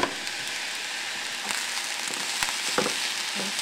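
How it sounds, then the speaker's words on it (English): Food frying in a pan with soy sauce, a steady close sizzle with occasional scraping clicks from stirring, no talking. "And stir some more."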